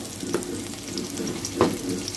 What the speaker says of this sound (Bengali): খুব ভালো করে সামান্য পরিমাণ ভেজে নিব